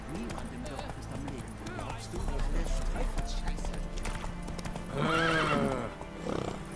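Horse hooves clip-clop and a horse neighs loudly, with game music and effects underneath, in The Witcher 3: Wild Hunt.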